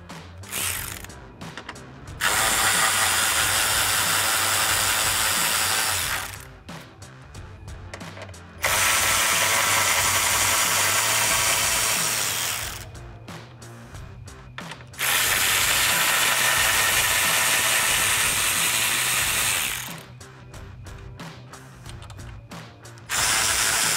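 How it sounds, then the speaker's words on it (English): Ratchet with a 10mm socket backing bolts out of a 2009-2018 RAM 1500 grille, loud rapid clicking in long bursts separated by short pauses, close up with no talking. "So I'll use my 10mm socket on a ratchet and pull those out."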